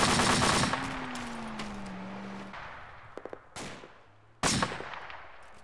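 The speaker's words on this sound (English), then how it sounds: "240, you need to put some fucking bursts in those trees." M240 machine gun firing in the field, a loud sustained burst at the start tapering off, followed by a few shorter sharp bursts and a final loud burst near the end.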